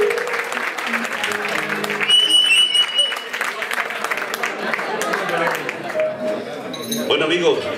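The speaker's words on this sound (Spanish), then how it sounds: "Un aplauso para él." Applause from diners in a restaurant for a singer, a lively round of clapping mixed with chatter and voices, rising and falling over several seconds.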